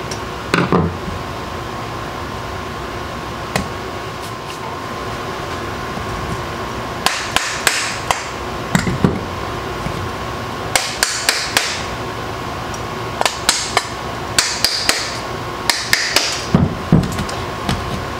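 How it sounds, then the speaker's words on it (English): Sharp metallic hammer strikes on a brass drift while disassembling a Triumph TR6 carburetor, coming in irregular clusters of quick taps with short pauses between, close and loud over a low background hum. "You can use a hammer with a brass drift"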